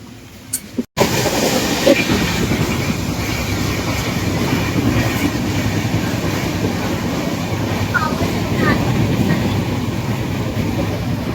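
Heard from inside a moving Janshatabdi Express passenger train, a steady rumble with a rhythmic clickety-clack of wheels over rail joints continues throughout, after a brief sharp click at the very start.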